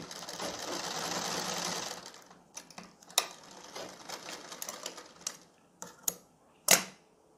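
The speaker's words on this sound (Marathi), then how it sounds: "अशा प्रकारे काटकोनात इथे शिवून घ्यायची आहे." A sewing machine runs steadily for about two seconds while stitching a right-angled seam on the sleeve of a kalidar kurta, then stops, followed by scattered clicks and fabric handling.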